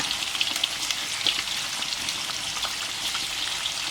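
Tilapia fillet fries in hot oil, giving a dense, crackling sizzle with scattered pops, steady and close throughout, with no speech.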